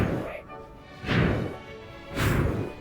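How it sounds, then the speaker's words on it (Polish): Explosions in the Minecraft Nether, two loud booming blasts about a second apart, each a broad crash that swells and fades. "Skąd te wybuchy?"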